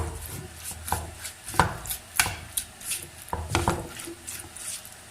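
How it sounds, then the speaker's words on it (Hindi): Peri peri masala being mixed into chicken in a bowl for mini pizzas, giving scattered soft scraping and knocking strokes at an uneven pace, fairly close and quiet with no talking. "अब इसे हम अच्छे से मिक्स कर लेंगे"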